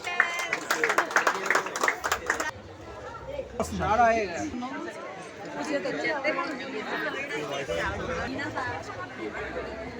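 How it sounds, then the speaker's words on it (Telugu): An audience at a store launch event in Kakinada claps in a dense burst of applause that fades into crowd chatter and overlapping voices. "claps claps"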